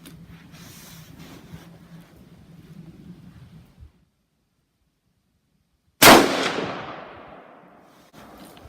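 .223 Remington rifle firing a 69-grain SMK load: a single sharp, loud report with a long decaying echo, following low rumbling background noise and a short silence.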